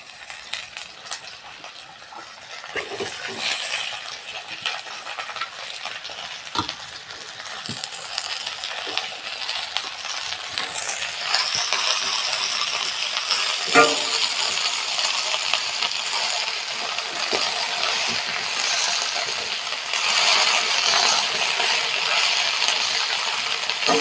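Greens tossed into a pan with cumin and lightly softened onion give a steady, rising sizzle with scattered stirring clinks and scrapes, growing fuller and louder midway and holding there with no talk.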